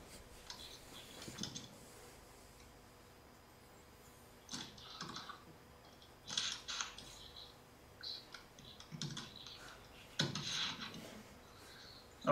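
Someone types on a computer keyboard in short, scattered runs of light clicking keystrokes separated by pauses, fairly faint over a low background hiss.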